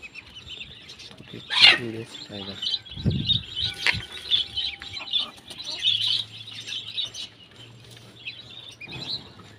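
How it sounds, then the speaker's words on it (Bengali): Chickens kept together with ducks cluck and chirp close by while eating morning feed, giving scattered calls and a few louder squawks, with quiet speech in between. "দেখুন আমাদের মুরগিগুলো"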